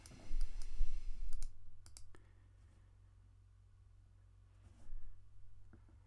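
Mouse clicks while selecting a target hex for guided missiles in an aerospace strategy game, a quick cluster of sharp clicks near the start, then quiet, then one more soft click later.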